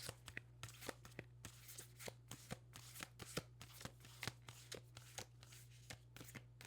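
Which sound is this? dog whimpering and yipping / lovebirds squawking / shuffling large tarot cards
shuffling large tarot cards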